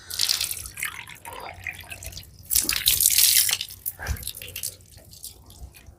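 During wudu ablution, water pours and splashes from a tap into a basin with irregular splashes and drips, loudest in a burst midway, heard close without talk over it.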